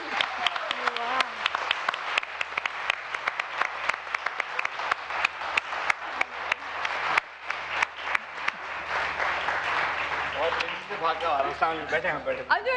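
Studio audience on a Pakistani morning TV show applauds as a qawwal is welcomed on set, steady dense clapping held throughout with music faintly underneath and a voice rising near the end.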